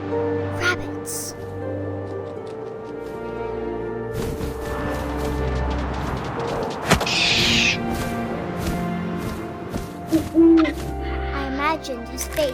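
Owl hoots from the game What Remains of Edith Finch sound out over wind and layered ambient tones, with thumps and scattered other noises mixed in across the scene.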